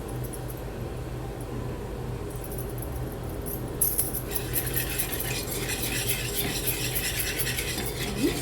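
Mango pieces tossed with hing, pickle masala, turmeric and salt, close soft scraping and rubbing of a spoon through the mix, growing a little louder and more clattery midway.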